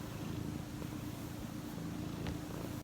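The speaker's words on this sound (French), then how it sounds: "Je sais pas si vous entendrez ces ronrons." A pet cat named Lia lies on a person during a cuddle and purrs: a low, continuous rumbling drone, close and steady throughout, with no talking over it.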